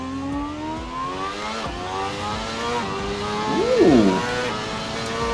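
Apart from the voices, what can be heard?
racing car engine revving in sim racing video game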